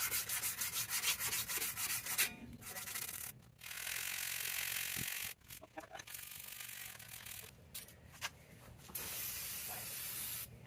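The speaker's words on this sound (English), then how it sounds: "Brake clean, sandpaper, clean up the rotor a little because we're not rebuilding them." Sandpaper rubbed over a brake rotor from a 1976 Ford F100 front brake, a close, raspy scrubbing in long bursts separated by short pauses, alone without talk.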